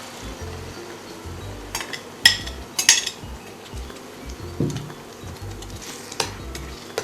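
A fish kofta gravy base with tomato paste fries in a pan while being stirred, a low continuous sizzle broken by sharp spoon scrapes and clinks against the metal, close and unaccompanied by voices.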